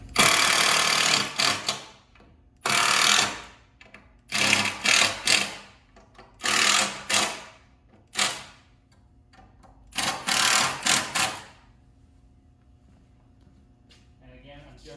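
A power drill drives screws into a cedar picnic table in several separate bursts of high whirring, each a second or two long, with short pauses between them.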